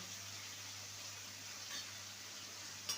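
Spice paste sizzles in a pan while a vegetarian soya curry cooks, a soft, steady frying hiss with a faint stir near the end.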